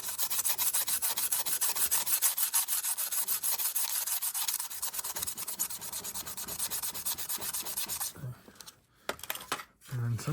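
Close, steady sanding strokes rub against a 3D printed RC truck part for about eight seconds, worked toward a matte finish, then stop briefly before a few more scrapes; a voice talks partly over it.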